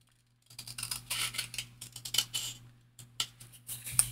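Scissors trimming junk mail paper for a craft project, a quick run of crisp close snips and slicing strokes with short pauses, alone without talk.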